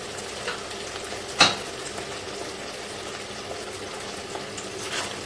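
Ginger paste sautés in a pan with a steady, close sizzle, broken by one sharp clink of a utensil partway through and light stirring.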